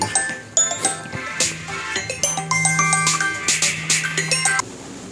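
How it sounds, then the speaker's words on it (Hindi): A mobile phone ringtone plays a bright, repeating electronic melody of chiming tones during a physics lecture. It rings loudly and continuously for about five seconds, then cuts off. "फोन आ गया था"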